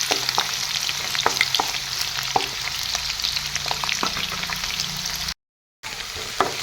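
Onions hit hot oil and fry with a steady close sizzle dotted with sharp crackles and pops, cut by a brief silent gap near the end.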